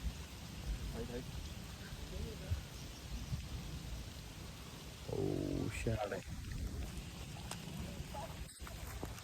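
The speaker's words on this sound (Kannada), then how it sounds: "ಫುಲ್ ಮಳೆ ಬರ ಐತ್ರಿ ಜೋರ." Heavy rain pours steadily as a dense hiss, with a brief spoken word and some clatter partway through.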